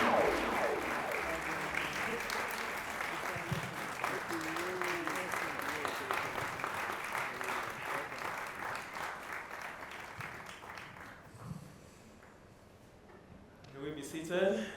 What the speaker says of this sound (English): a standing ovation for Father Anthony Aleakwe Odior